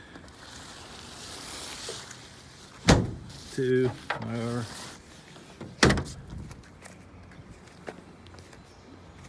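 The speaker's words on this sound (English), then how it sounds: "Then you could close the doors" Two heavy VW bus doors slam shut a few seconds apart, each a sharp thud, with brief speech between them against faint outdoor background.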